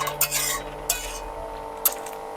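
A metal lid clinks and scrapes against a pot of pumpkin boiling in milk in a kadai, with several sharp clanks over a soft steady simmer.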